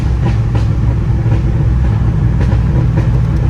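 Chevrolet S10 pickup with an LS swap and T56 manual transmission, engine humming low and steady from inside the cab during a downshift to third, a continuous close drone with no talking.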